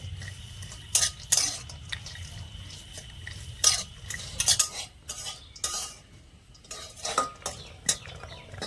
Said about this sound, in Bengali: এবারে একদম হালকা আঁচে রেখে নেড়েচেড়ে একটু ভেজে নেব।